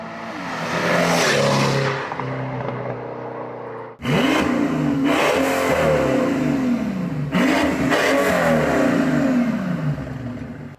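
Mercedes-Benz S65 AMG V12 with a modified exhaust, revved hard three times in close succession, each a loud rising scream that tails off, with a brief gap before the second rev.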